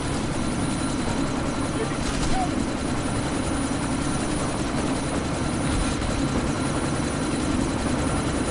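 Helicopter in the Deus Ex: Mankind Divided video game, a continuous close rotor drone with a steady engine roar held at an even loud level throughout.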